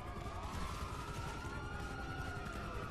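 Wailing police sirens from the GTA Online video game, several overlapping tones sweeping steadily and loud over a dense game-action background for the whole stretch, with no voices.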